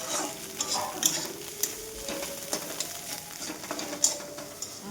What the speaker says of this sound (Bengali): 2খানা ডিম দিয়ে বেশি করে পেঁয়াজ কাঁচা লঙ্কা দিয়ে একেবারে এই ডিমের ভুজিয়া করে দিচ্ছি।